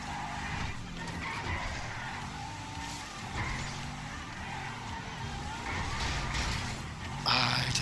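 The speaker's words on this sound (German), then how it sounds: "Alter, der Wagen schlittert." Car tires skidding and squealing in GTA V Online, a continuous engine and tire roar running throughout, with a sharper burst near the end and a voice talking over it.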